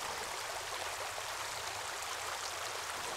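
A healthy river in the Drôme flows in a soft, continuous rushing hiss, even and fairly faint, with no voices.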